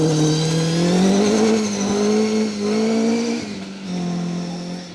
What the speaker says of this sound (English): Ryan Griffiths in the Escort, throwing the car through the hairpin.